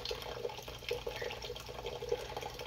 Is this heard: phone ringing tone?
no